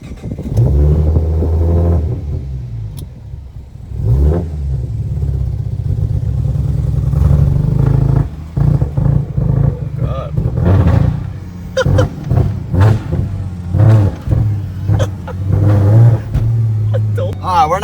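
A Ford Mustang V6 3.7 engine revs up unevenly, rumbling and climbing in bursts without reaching its peak, heard loud and close inside the car while people talk over it.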